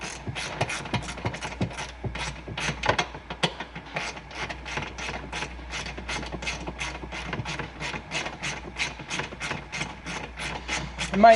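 A ratchet wrench backs out 10 mm bolts from a plate on a Hummer H3, a rapid run of close, crisp clicking pawl strokes with a brief pause partway through.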